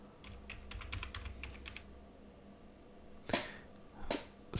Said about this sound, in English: Now password for maintenance mode.